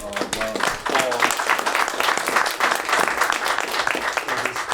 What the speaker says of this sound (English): we want to give them a big round of applause